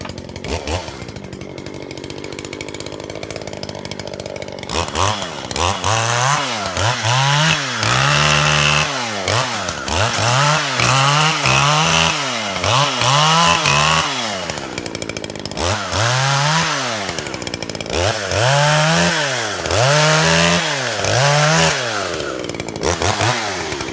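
Chainsaw cutting back willows or alders in the woods, starting after a few seconds with repeated loud revving bursts as it bites into branches, close and continuous with no talking.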